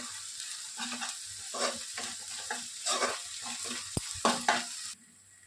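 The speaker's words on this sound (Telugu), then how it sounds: "ఇప్పుడు అల్లం పేస్ట్ కొద్దిగా పచ్చివాసన వెళ్ళేంత వరకు దీన్ని బాగా వేయించాలి" Ginger paste frying in a pan for chicken handi, a close hissing sizzle broken by rhythmic scraping stirs, one sharp knock near the end before the sizzle cuts off abruptly.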